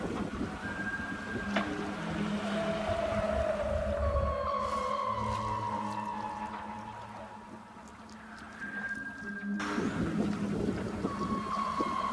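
Whales call near a racing sailboat approaching Cape Town, South Africa, long tonal moans and sliding whistles rising and falling over a low hiss of wind and water, fairly faint and distant.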